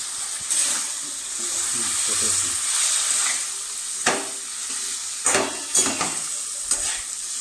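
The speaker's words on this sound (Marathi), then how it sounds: "मसाला झालाय आता आपण घेऊ मासे टाकून. हे बघा बनवून ठेवलेले मासे टाकून घेऊ हळून." Tilapia fish pieces go into a masala in a pan, a bright continuous sizzle with a few sharp stirring scrapes and clinks toward the end, and a voice speaking quietly over it.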